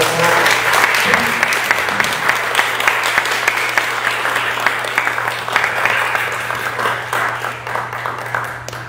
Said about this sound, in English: I really would love to have you all give a really welcoming applause